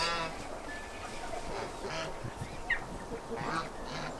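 A duck quacking in a garden, several short nasal quacks at moderate distance over steady outdoor background noise, fairly faint.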